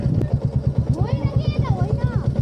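A motorcycle idling with a steady, pulsing engine throb while being turned around on a riverside path along the Tamor corridor in Taplejung, close and continuous, with people talking over it throughout.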